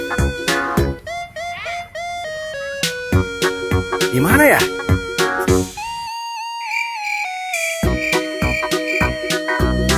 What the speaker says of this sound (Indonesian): ada suara ondel-ondel teman-teman.